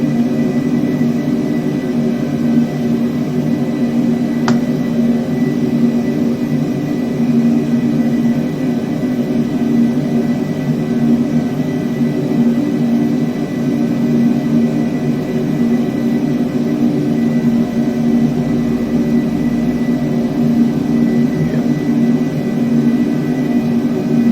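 Constant loud drone of Antonov aircraft engines in flight over the Southern Highlands at about 12,000 feet, a steady low hum and whir heard from inside the aircraft, unbroken and with no talk.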